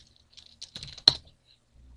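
Keys tapped on a computer keyboard while entering a Linux shutdown command on an Ubuntu server, a few scattered light clicks followed by a sharper, louder keystroke, close and alone.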